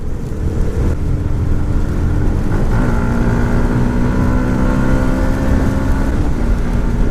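A 2018 Yamaha MT 125 motorcycle engine pulls loud and steady as the rider accelerates up through the gears, a rising drone over wind rush heard from on the bike.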